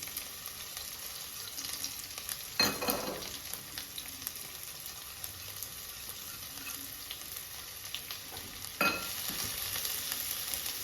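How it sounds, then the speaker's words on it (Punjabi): Ginger and garlic fry in a pan over a medium gas flame for moth dal, a steady, soft sizzle with two louder bursts of stirring and scraping. "ਅਦਰਕ ਲਸਣ ਨੂੰ ਆਪਾਂ 1 ਮਿੰਟ ਤੱਕ ਭੁੰਨਾਂਗੇ"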